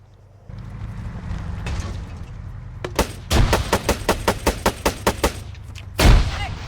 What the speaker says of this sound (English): One of them shot a fucking grenade.